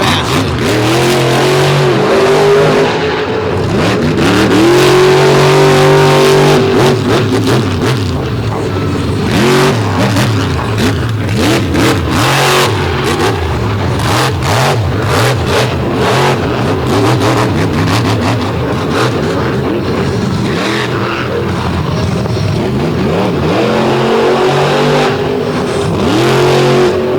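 Chevrolet bow-tie vehicle revving hard at the start of a run at the Lake Erie All Star Marathon event, loud engine roars rising and falling repeatedly, with bursts of noise and crowd ambience throughout.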